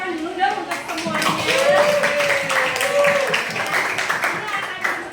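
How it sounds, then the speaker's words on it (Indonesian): Classroom of students applauding together, a lively burst of clapping with children's voices and chatter mixed in, fairly close and sustained for several seconds. "kita kasih tepuk tangan dulu dong untuk semuanya"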